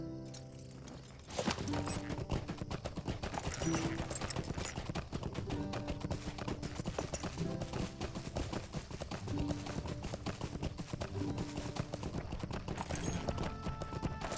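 Horse hooves clip-clopping in the video game Lord of the Rings Online, a steady rhythmic trot of hoofbeats over a background of game music and ambience, continuing throughout.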